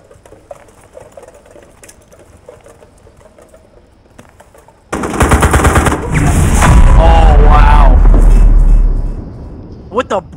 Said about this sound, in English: Oh, with the Browning M19. That gun is so fucking OP.